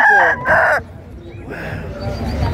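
A fighting rooster crows at an outdoor livestock market, loud and close, in two strained bursts. Crowd noise and general market murmur follow.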